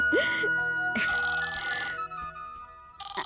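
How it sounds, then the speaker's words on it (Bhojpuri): A telephone rings in a Bhojpuri village family drama scene, a loud electronic ringtone repeating in bursts with a steady tone running underneath, alone and close for about three seconds. "अरे बुआ तनी फोन देखी था।"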